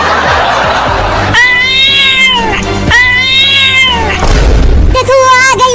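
A cat meows three times in a comedic short, loud and close. The drawn-out, bending cries are separated by brief pauses, with a low rumble and other noise underneath.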